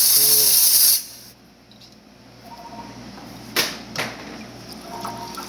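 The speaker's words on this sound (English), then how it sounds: "steam. Hot water is working well." Steam wand of an Expobar Office Lever espresso machine gives a loud, close hiss for about a second, then falls to a quieter background with a low hum and a couple of brief sharp bursts.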